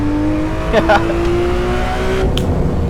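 A Porsche GT3 RS drifting in a racing video game, with a steady engine drone and brief tire squeals. Light talk runs underneath.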